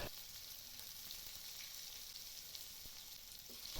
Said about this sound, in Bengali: কড়াইয়ে তেল দিয়েছি। তাতে জিরা ফোড়ন দিয়ে পেঁয়াজ কুচি, মরিচ কুচি দিয়ে একটু নাড়াচাড়া করে নেব।